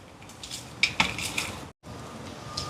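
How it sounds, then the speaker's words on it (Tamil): Clinking and scraping of a utensil against a bowl as spices and fish are mixed, a few sharp taps over a steady background hiss. "இப்போ இது எல்லாத்தையும் நல்லா கலந்து விடுவோம்."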